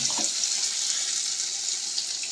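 Running water pours steadily to rinse out a spice bowl, a constant close splashing rush with a brief clink of the bowl at the start.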